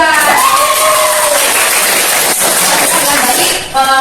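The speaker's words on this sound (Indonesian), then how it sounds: "Kita semua harus aplaus untuk kelompok 2." Students in a high school classroom at SMA Negeri 1 Semaka cheer and applaud for a group, a dense, steady wash of clapping, whoops and excited voices that barely dips before rising again at the end.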